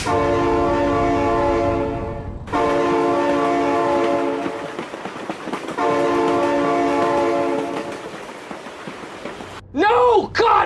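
Loud, sustained train horn blasts in a vehicle crash video game, sounding in long held bursts with brief breaks, ending in a short shouted exclamation.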